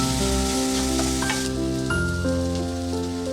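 Garlic and shallots sauté in a pan with a steady, bright sizzle and occasional stirring, alongside sustained tonal music that runs throughout.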